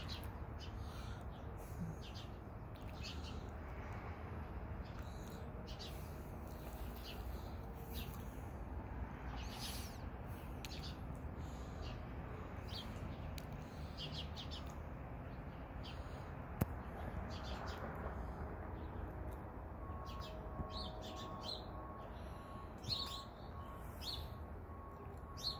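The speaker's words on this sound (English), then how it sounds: "bird." Small birds chirp and call in short, scattered bursts over a quiet outdoor background, fairly faint and spread through the whole stretch, with no talking.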